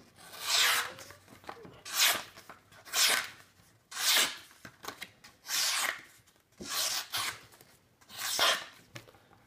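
A Kershaw Half Ton 1445X pocket knife slicing through material in seven evenly spaced, close rasping strokes, each a loud swelling scrape separated by short pauses.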